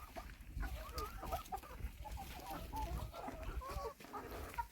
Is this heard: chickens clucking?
yes